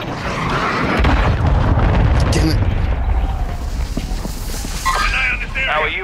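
Cruise missile strike in the video game Call of Duty MW2, a loud, deep booming explosion that rumbles and fades over several seconds, followed by scattered debris crackles and game radio chatter.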